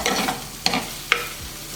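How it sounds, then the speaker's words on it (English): Curry leaves dropped into a simmering fish molee gravy give a soft, steady sizzle, broken by two sharp crackling pops, with faint stirring and no talking. "So I'll be adding a few curry leaves into it."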